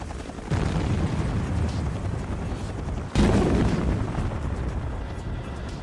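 A remote-triggered hydrogen-oxygen gas bell explodes to set off an avalanche above a French mountain motorway, heard as a loud broadband blast followed by a long roaring rumble, with a second surge of roar partway through and no talk.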